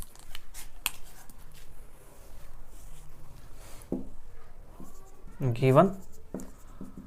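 Marker or chalk scratches and taps on a board during a maths lesson on double integrals, heard as short intermittent strokes, with someone speaking over them.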